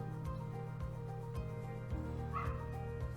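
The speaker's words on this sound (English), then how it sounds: "These dogs are making me crazy today." Dogs in a house yip and whimper in quick, repeated bursts, fairly close, over a low steady hum, with no talking.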